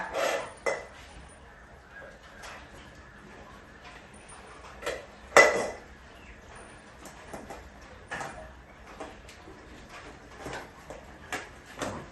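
A pet's pot is handled and clatters in scattered, sharp knocks and clinks, with one louder bang midway, while a person talks quietly between the sounds.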